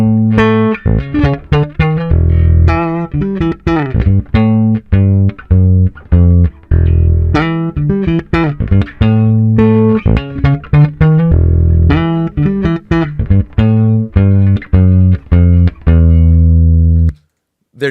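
Higher-register notes are played with fingers on a Fender P bass with a maple fretboard through a clean CLA Bass plugin, a steady, loud line of plucked notes that stops just before the end.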